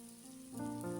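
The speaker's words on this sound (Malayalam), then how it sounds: "തിളച്ച വെള്ളമാണ് ഒഴിച്ചു കൊടുക്കുന്നത്, പച്ചവെള്ളം ഒഴിച്ചില്ല, ചൂടുവെള്ളമാണ് ഒഴിച്ചു കൊടുക്കുന്നത്." Hot boiling water poured into a pan of sizzling mixed vegetable curry, the steady fry hiss swelling into a louder, bubbling surge as the water hits, close and alone.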